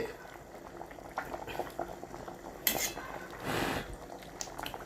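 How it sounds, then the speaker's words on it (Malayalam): Cucumber curry with tomato bubbling in a pot on the stove, soft steady boiling with a few clinks of utensils and a louder surge of bubbling near the end. "നല്ലോണം വെട്ടി തിളയ്ക്കുന്നുണ്ട്"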